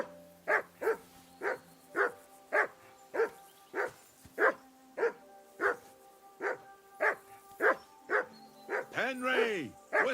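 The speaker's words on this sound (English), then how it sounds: "Henry, whistle at that mutt of yours to stop barking." A dog in the video game Kingdom Come Deliverance 2 barks repeatedly in a steady, evenly spaced rhythm, about seventeen clear, close barks. The barking ends in a higher, wavering whine.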